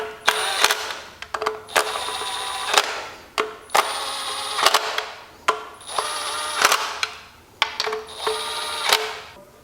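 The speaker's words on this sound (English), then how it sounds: "I'm not going to tighten them with the cordless tool. We're just going to get them down and come back and do a final torque." A cordless power tool runs down the oil pump bolts on a Chrysler FWD 3.2/3.6 Pentastar V6, in about seven short, loud, close whirring bursts separated by brief pauses and clicks.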